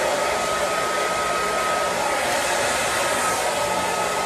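A hair dryer blowing hot air on hair runs as a steady, loud, unbroken whir with a faint high tone, close by and alone without any talking.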